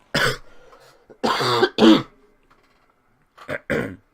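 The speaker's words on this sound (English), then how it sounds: "I apologize for my coughing." A sports commentator coughs and clears his throat in several separate bursts during a handball broadcast, close to the microphone and fairly loud, with short silent gaps between the coughs.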